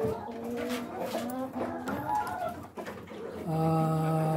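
Rhode Island Red breeder chickens in a cage on a farm, clucking and calling with bird vocalizations close by, mixed with a voice talking throughout and a sustained tone near the end.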